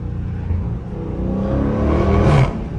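A 2023 Dodge Challenger Scat Pack's engine revs up and swells in a low, muffled roar, heavily buried under gusting wind rumble, rising toward the end and then cutting back.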